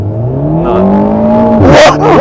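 An Alpine A110 S launching hard on launch control, its engine note climbing steadily in pitch close by before a sharp gear change and renewed pull, loud and alone.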